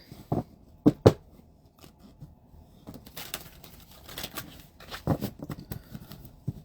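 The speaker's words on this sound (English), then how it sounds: "One more shuffle." Several quick riffling bursts of cards being shuffled, crisp and close, with a few sharp flicks and quieter rustling in between.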